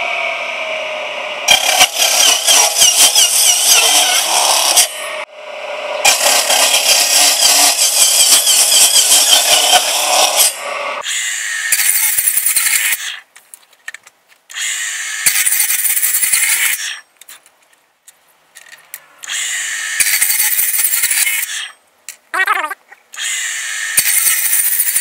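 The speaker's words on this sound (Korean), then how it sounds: "26mm 그리고 1T 요 두께로 스텐 파이프 한번 잘라보겠습니다" TICHOP DC9913 metal cutoff saw cutting 26mm stainless steel pipe with 1mm walls. The blade whines loudly and steadily in long grinding passes, then drops to shorter bursts with brief pauses as the motor spins down and restarts, close and dominant.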